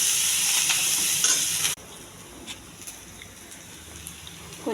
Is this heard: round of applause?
no